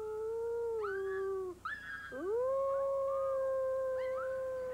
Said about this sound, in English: the wolves' most powerful way of communicating is their distinctive howl